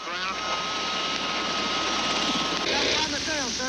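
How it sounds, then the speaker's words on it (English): Sikorsky helicopters patrolling over jungle, their steady loud rotor and engine roar filling the whole stretch while a voice talks over it. "Two Sikorskis constantly patrol the border."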